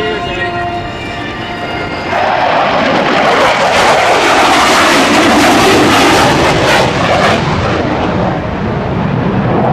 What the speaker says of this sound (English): Major Wayne Chitmon and the F4 Phantom